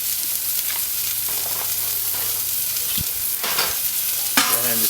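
Onions and peppers fry on a Kettle Q grill for a Philly cheese steak, giving a continuous close sizzle broken by several scraping stirs and clinks of a utensil against the cooking surface.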